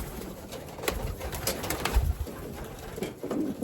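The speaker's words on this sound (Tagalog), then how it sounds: "Ito isa sa mga pinakamaamo kong ibon na mamara sa atin." Soft, rolling coos from a group of racing pigeons repeat at an easy pace, fairly quiet and close, with a light background hiss.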